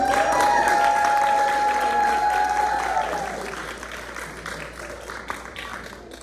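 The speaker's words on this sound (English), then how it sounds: "Give it up for Toby and Betty and Shannon" An audience claps loudly and continuously at a variety show. The applause is dense and close at first, then gradually thins and fades, and a voice calls out over the start.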